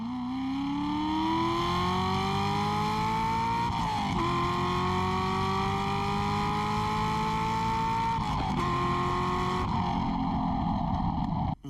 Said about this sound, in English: the LS7 engines in these make one of the best American performance sounds